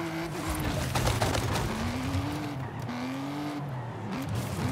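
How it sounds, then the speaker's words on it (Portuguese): Car tires slip and squeal on loose dirt in Forza Horizon 5, with several rising whine-like tire or engine tones over a constant gritty rumble of driving noise, moderately loud and continuous, no talk. "o carro não para de patinar"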